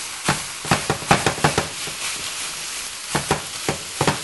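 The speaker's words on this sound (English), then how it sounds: "We're just mixing in these few ingredients here" Browned hamburger with seasonings is stirred in a frying pan, a utensil scraping and tapping the pan in quick irregular strokes over a soft sizzle, two clusters of clacks separated by a short lull.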